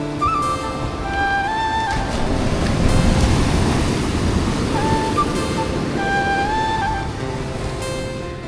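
Sea waves wash onto the shore at Old Digha in a steady broadband roar that swells and fades, with wind noise and faint whistling tones drifting above it; no talk.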